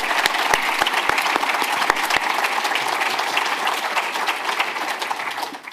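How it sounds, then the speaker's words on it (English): Conference audience applauding panelists at the close of a FinTech session in Leeds, a dense, steady wash of many hands clapping at full strength for nearly six seconds, with a few sharper individual claps standing out early on. "Can I have a round of applause for our panelists"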